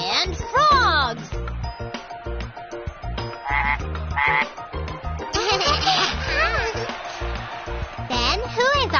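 Cartoon frogs croak in a loud, busy chorus with warbling, bouncy calls that run throughout, set against music in a forest singing contest.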